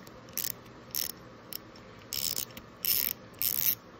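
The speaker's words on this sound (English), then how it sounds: "as it clamps down, the lash gear, like it's doing right now, it's straightening out." A Mercedes M156 engine's lash gear clamping down in a timing tool, giving a series of short metallic ratcheting clicks in bursts, close and fairly loud, with no talking.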